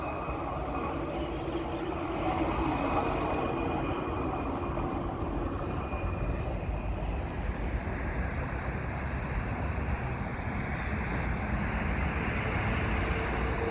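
A train rumbles past nearby with a broad, steady roar of wheels on rails, continuous for the whole stretch, with no talking.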